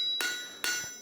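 A farrier's hammer strikes hot steel twice, beveling the inside of a handmade square-toed horseshoe for a yearling heavy horse, each blow a bright ringing clang that decays slowly.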